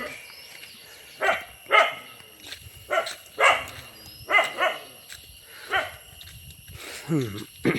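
A dog barks repeatedly in short, sharp bursts with uneven gaps, fairly close, ending in a higher whining bark, near a hilltop Ayyappa temple.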